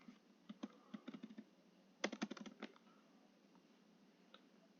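Keys clack on a computer keyboard in a quiet room, with scattered single taps followed by a tight cluster of quick presses, faint and close.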